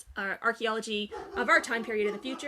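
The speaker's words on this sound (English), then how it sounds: "if you can hear him in the background barking" A dog barks a few times somewhere in the background while a person talks steadily up front.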